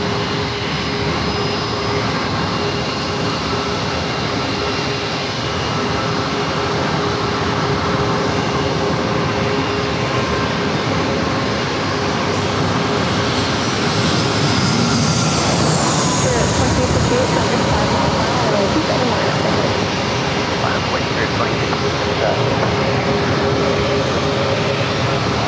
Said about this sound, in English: up next, Air Canada Rouge, flight 16A3, committed from Toronto. It's an A320.